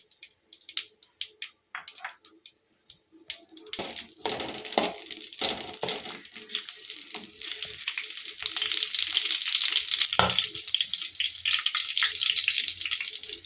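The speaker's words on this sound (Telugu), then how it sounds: "ముందుగా ఒక ప్యాన్ పెట్టుకొని కొంచెం ఆయిల్ వేసి అందులో కొంచెం పచ్చిమిర్చి వేయాలండి" Green chillies frying in oil in a pan: a few sharp pops and crackles at first, then a steady, loud hissing sizzle that fills the rest of the stretch, close up and with no speech.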